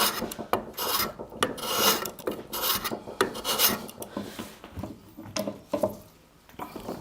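Hand plane shaving across the end grain of a wooden board during squaring, worked in short partial strokes from each direction: repeated close rasping passes with brief gaps, loud and alone.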